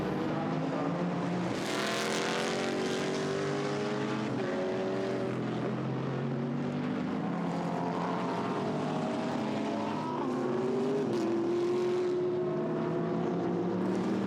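Race cars lap the Nürburgring during a Blancpain Endurance Series free practice session, engines droning and rising in pitch as they pass, moderately distant and continuous without talk.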